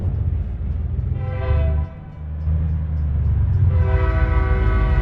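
A passing train in American Truck Simulator sounds its horn in long harmonic blasts over a heavy low rumble, the horn fading briefly and then swelling louder toward the end.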